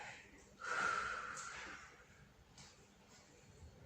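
A person blows out a long, deep breath while holding an arm and neck stretch in an end-of-workday stretching routine. The exhale is soft but clear, rising quickly, easing off over a couple of seconds, and followed by quieter breathing with no talk.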